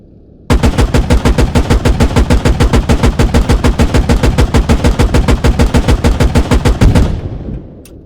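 Rapid, loud burst of Warrior vehicle cannon fire in the game Squad, armor-piercing Sabot rounds cracking off in a steady rhythm for about six and a half seconds before the echo tails away.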